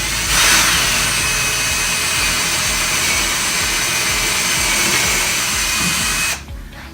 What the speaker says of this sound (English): I'm going to go ahead and pre-drill my mounting plate so that it doesn't splinter